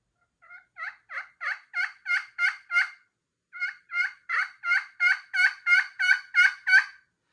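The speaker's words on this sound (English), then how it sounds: "So I'm going to start out with some quiet yelps," Soft, evenly spaced turkey yelps from a Woodhaven Fusion ceramic pot call, played toward the edge of the surface, two runs of about ten notes each with a short pause between, fairly quiet and raspy.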